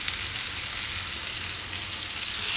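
Potatoes and soaked soya chunks frying in a pan as peeled tomatoes go in: a loud, dense, unbroken sizzle that holds steady throughout, heard close with no speech.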